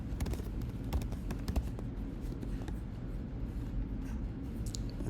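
Typing on a computer keyboard, quick continuous light key clicks at a steady pace, fairly quiet and close, without speech.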